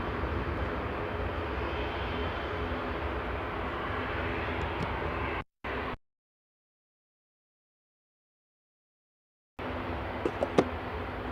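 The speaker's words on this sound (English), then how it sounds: "Virgin coming in from Las Vegas with an A350-1000" A Virgin Airbus A350-1000 arriving from Las Vegas at Manchester Airport, a broad distant jet-engine roar with rumble, cut by a few seconds of dead silence before the roar returns.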